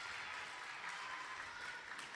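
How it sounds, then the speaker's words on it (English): A crowd at a roller derby match between Demonburgh and NJRD cheers and applauds in a dense, steady wash of noise, faint and somewhat distant. "I just heard a massive cheer"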